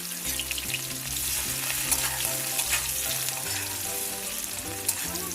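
Chopped onions sizzle vigorously in hot oil for a shrimp bhuna, a loud, dense, continuous frying hiss with light stirring throughout, close up and with no voices.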